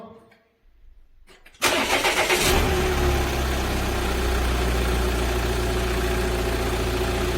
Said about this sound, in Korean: 시동 걸어주세요